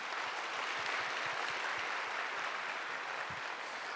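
A church congregation applauding during a Sunday worship service, a dense and even wash of many hands clapping together at a steady level throughout, with no speech.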